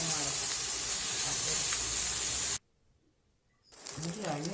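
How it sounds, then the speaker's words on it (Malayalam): Ingredients sautéing in a little oil for Kerala puli inji give a loud, steady sizzling hiss that cuts out abruptly for about a second, then resumes. "ഇനി ഇതൊന്ന് നല്ലോണം വഴറ്റിയെടുക്കാം."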